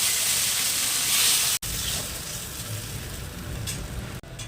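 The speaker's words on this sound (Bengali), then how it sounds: "মাছগুলো ভেজে নেব" Hilsa fish pieces fry in oil in a wok with a continuous close sizzle, briefly cut off twice as if the pan is moved or stirred, and no voices.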